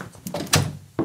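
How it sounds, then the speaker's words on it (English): An office door being shut: a few soft bumps and a firm closing thud, close by with no talking. "Please, shut the door."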